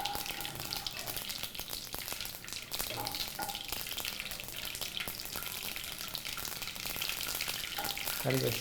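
Half a teaspoon of mustard seeds spluttering in about 100 grams of hot oil for Kerala-style bitter gourd pickle, a continuous crackling sizzle with scattered pops and faint clinks of a spoon, close and steady.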